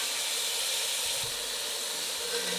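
Chicken frying in a pan with ginger garlic paste, a steady, loud, dense sizzle and hiss throughout with no pauses and no voices.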